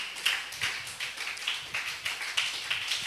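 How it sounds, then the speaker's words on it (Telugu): A church congregation claps together in praise, with a steady run of sharp, roughly evenly spaced claps at a moderate distance, sounding alone with no talking. "ప్రభుని ఒకసారి చప్పట్లు కొట్టి ప్రభుని మహింపరచండి"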